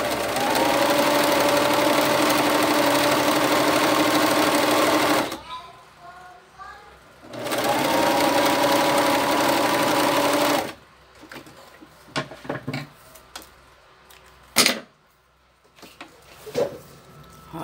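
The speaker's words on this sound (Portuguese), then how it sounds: "Eu vou costurar." A sewing machine stitches a fabric turban in loud steady bursts, running about five seconds, pausing, then running again for about three seconds, followed by quieter handling clicks and knocks.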